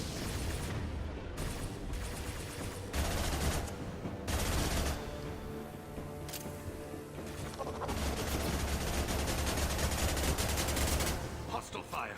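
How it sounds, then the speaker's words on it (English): Gunfire in the Mass Effect 2 game, with dense bursts of automatic shots and sharp booms going off repeatedly and loudly, mixed with voices talking amid the firefight. "Hostile fire."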